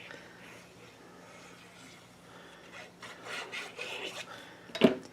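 Paper is trimmed for a steampunk mini album, with quiet rubbing and scraping strokes of the cutter that grow louder midway and end in a sharp clack.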